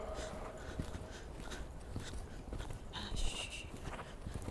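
A horse walking in a riding arena during a German-rein coaching lesson, with soft, muffled hoof falls in a slow, even rhythm under steady background noise.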